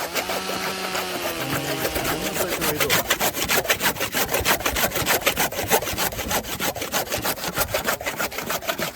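A dull hand saw grinds steadily through wood in quick, rhythmic strokes, rough and scraping, close by and continuous with no talking.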